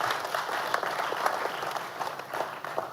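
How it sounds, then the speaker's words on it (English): Conference audience applauding at a tech and finance event, a dense steady wash of many hands clapping together throughout, fairly close and full, with no talk over it. "let's give us a round of applause for ourselves"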